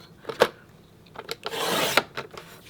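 A paper trimmer slices a 2.5 inch strip from cardstock: a couple of short clicks and scrapes, then a smooth rasping swipe of the blade lasting about half a second, close and fairly quiet with no talk.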